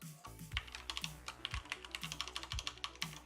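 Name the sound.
typing on a computer keyboard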